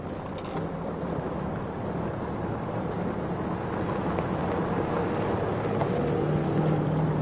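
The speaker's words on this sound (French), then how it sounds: "Des centaines de véhicules étirés sur 40 km." A long column of hundreds of military vehicles crossing stony desert tracks and dunes, heard as a steady, continuous engine rumble and drone with no gaps, mixed with wind.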